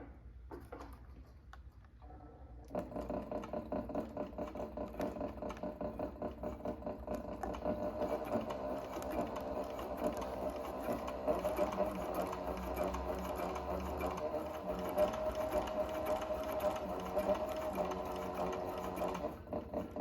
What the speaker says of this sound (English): I'm going to flip this down and I'm going to stitch along on this side here.